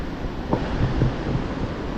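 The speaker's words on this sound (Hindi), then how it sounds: "ये पानी का सुन रहा होगा आपको साउंड अभी।" Steady rushing water from a riverbank outdoors, a broad continuous wash that stays loud and close for the whole stretch with no voices over it.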